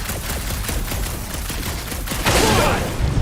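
Rapid bursts of video game gunfire fill the whole stretch, dense and loud, swelling into a heavier blast near the end.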